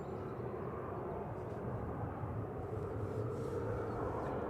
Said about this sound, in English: They said Icelandair sending a brand new A321 Neo today.